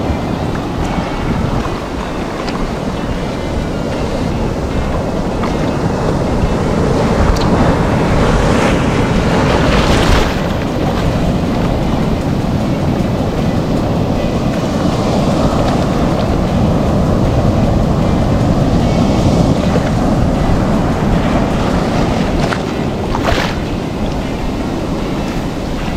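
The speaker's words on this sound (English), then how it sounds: "the reason you come at high tide is so that these waves are breaking over the top of the rocks." Ocean waves at high tide break over rocks on the coast of K'gari (Fraser Island), a loud, continuous roar of surf with heavy wind buffeting the microphone and occasional stronger crashes, no talking.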